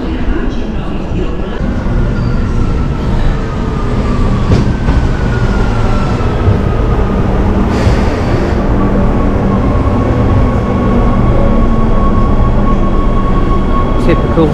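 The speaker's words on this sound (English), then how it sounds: "Typical, half of Rome is on this train and half of Rome also wants to get on this train." Rome metro train running underground between San Giovanni and Termini, with a steady loud rumble of wheels and motors and a rising whine throughout, crowded carriage murmur underneath.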